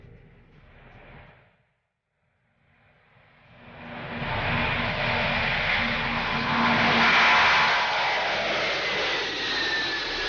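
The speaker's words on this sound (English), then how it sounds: "the 6-engine Goliath powers up and lifts off on its second maiden flight" A huge six-engine Antonov cargo airlifter powers up and lifts off, a loud rising jet roar that swells after a brief lull and holds as a broad, sustained rumble with a whine on top.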